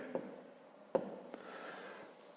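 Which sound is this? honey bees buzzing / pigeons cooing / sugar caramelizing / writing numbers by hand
writing numbers by hand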